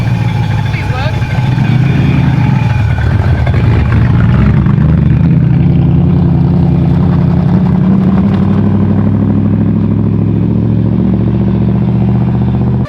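V8-swapped BMW E36 engine on a test drive, a loud steady low rumble that rises and settles into a sustained drone, with people talking over it.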